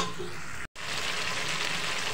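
Cut, washed potato pieces fry in hot oil in a pan, a loud, steady close sizzle with stirring, briefly broken by a split-second gap.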